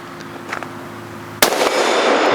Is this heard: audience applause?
no